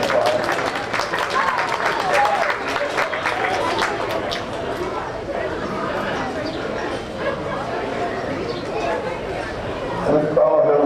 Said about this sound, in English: It's surely a big round of applause.